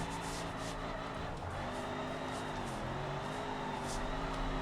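A limousine in the BeamNG driving game revs hard while drifting, its engine a steady loud drone with shifting pitch and faint tire noise, continuous throughout with no talk.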